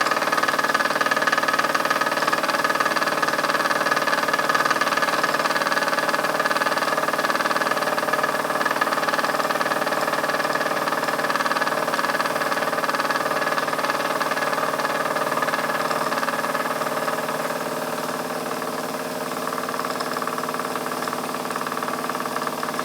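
A Wilesco D20 model steam engine runs at light throttle near 24.5 psi, a loud, steady mechanical drone with a constant rhythmic chuffing hum that holds for the whole stretch, no voices.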